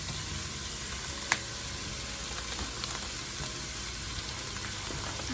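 Beef cubes sear in a hot pot for chili, a steady broadband sizzle with soft crackles and one or two sharp pops, close and continuous, no voices.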